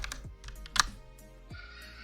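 Close, quiet typing on a computer keyboard, with a few scattered key clicks and one sharper clack in the middle.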